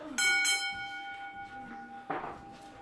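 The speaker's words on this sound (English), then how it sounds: "Ring the bell!" A bell rings to start a wrestling match at a live show, a bright ringing tone that sustains and fades while crowd noise and voices continue underneath.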